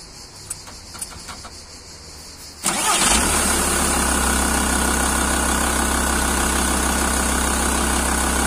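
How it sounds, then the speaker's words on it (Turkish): A Volkswagen Transporter T4 2.5 TDI van with a loss-of-power fault sits quiet with a few light clicks and key jingles, then the diesel cranks and catches, settling into a loud, steady, close idle. "Çalıştır arabayı."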